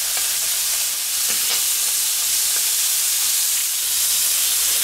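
Veal medallions sizzle in a hot pan, a loud, dense, unbroken hiss of frying fat close up, with a few faint ticks of movement in the pan.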